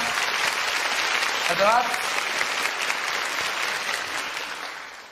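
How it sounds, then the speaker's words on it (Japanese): Audience applause fills a musical stage event, a steady dense clapping throughout with a brief spoken thank-you over it near the middle. "もう一度大きな拍手お願いします。"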